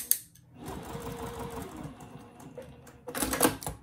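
A sewing machine running a straight stitch along the open end of a placemat pouch, with a close whirring burst at the start, a softer run in the middle and a louder burst near the end, alone without talk.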